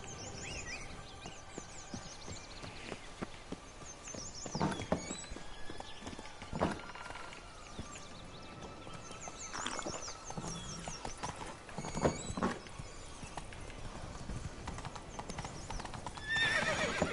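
A horse in The Witcher 3 trots along with steady clip-clop hoofbeats and lets out repeated whinnies, moderately loud and without talk for over fifteen seconds.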